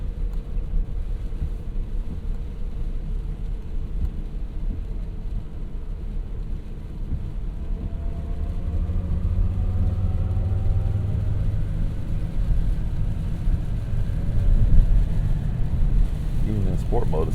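A 2025 Cadillac Escalade IQ electric SUV under way, giving a low road rumble and faint rising motor whine that build as it speeds up, with no speech.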